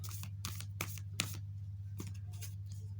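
Ancestors and angels oracle cards are shuffled by hand in a series of quick, crisp riffling bursts, close and fairly quiet over a steady low hum.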